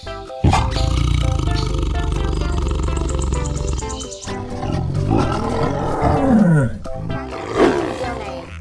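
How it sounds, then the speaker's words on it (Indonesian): A tiger roars loudly and at length, and a second growling roar follows, with a faint chirping of insects underneath. "Wow, ini harimau."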